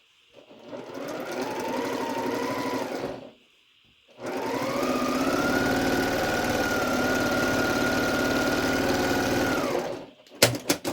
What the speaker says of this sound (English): now I'm going to sew on both sides of this line